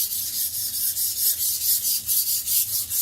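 A knife blade sharpened on whetstones, steady back-and-forth hissing strokes at an even rhythm, close and fairly loud with no voices.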